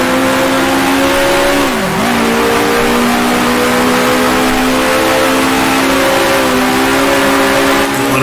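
A 1966 Formula One race car engine in the Grand Prix Legends racing game, a loud continuous buzzing drone that rises steadily as it accelerates, with a brief dip and recovery around a gear change.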